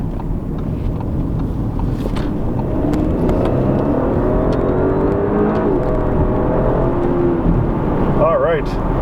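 A 2019 Audi A6 with a turbo V6 accelerates hard from inside the cabin, a steady rising engine drone and road rumble that persists throughout, with a brief higher whine near the end.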